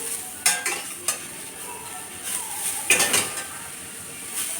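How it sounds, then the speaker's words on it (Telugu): Grated carrot and beetroot cook in ghee for halwa as a spoon stirs them, with sharp clinks and scrapes against the pan at irregular moments over a soft sizzle, close by. "వేసేసుకొని అండ్ దీన్ని మనం కలుపుతూ ఉండాలి"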